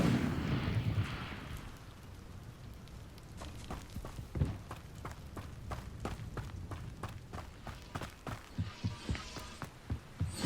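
A casting of the Incendio fire spell in Hogwarts Legacy: a whooshing flare of flame at the start, followed by a string of sharp crackling impacts and bursts in steady rhythm, moderately near with no speech.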